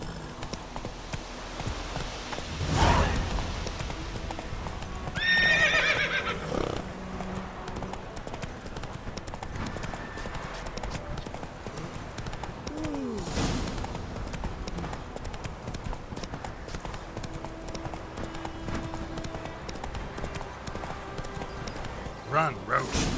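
Roach, a horse in The Witcher 3 video game, gallops with steady, rhythmic clip-clop hoofbeats through the whole stretch, moderately loud, while voices talk over the hooves now and then.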